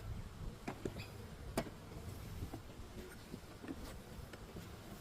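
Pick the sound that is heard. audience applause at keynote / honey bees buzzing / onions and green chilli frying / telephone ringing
honey bees buzzing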